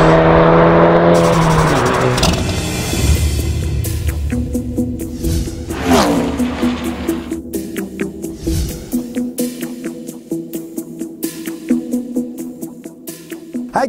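A VW Golf 7 GTI Performance facelift with 245 hp drives by and revs, engine swelling and fading with a burst of acceleration, then a pulsing rhythmic run of exhaust and road noise.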